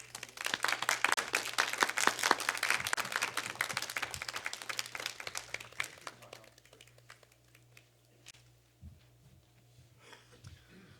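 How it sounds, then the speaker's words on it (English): A crowd at a seminar claps loudly and energetically for several seconds, then the applause thins out and fades to scattered claps and quiet room noise. "let's give thanks to God with a big round of applause"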